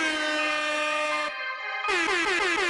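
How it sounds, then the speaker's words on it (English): Two loud blasts of an air horn sound effect on a podcast, a long blaring tone followed by a brief pause and a second wavering blast. "We're going to keep it light on the air horns."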